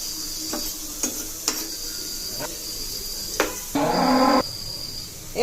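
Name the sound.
helencha greens fritters frying in a wok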